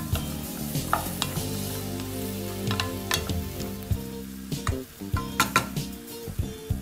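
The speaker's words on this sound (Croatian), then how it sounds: "I njih pržimo još minutu dvije." Potato cubes fry in a pot with onion, giving a steady close sizzle. A spoon stirs them repeatedly, scraping and knocking against the pot.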